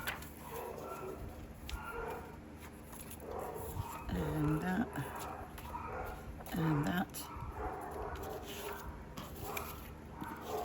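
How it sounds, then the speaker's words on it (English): Dogs bark and whine a couple of times in the background, faint against a person talking nearby. "the dogs are saying something"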